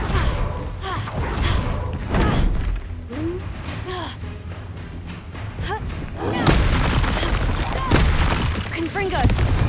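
Blasting-spell explosions from Hogwarts Legacy, repeated heavy booms and thuds with crackling debris amid dense combat noise. Spoken lines and spell-casting voices sound over the blasts.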